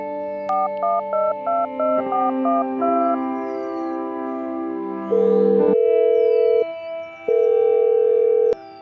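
Telephone keypad tones dial out a call in a quick run of short beeps, then steadier longer tones follow, all clear and close with no talking.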